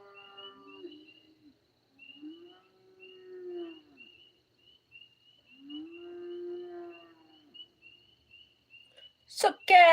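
A cow bawls in three drawn-out, low moaning calls, loud and fairly close, over a faint steady insect or bird trill, with a sharp noise at the very end.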